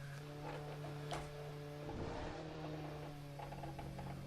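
A race car engine from the driving game Assetto Corsa, heard on the Nürburgring as a steady, even droning tone that holds at a constant pitch, with no talking over it.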